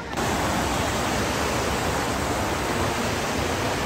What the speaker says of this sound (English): We had to hike down to be right next to the waterfall.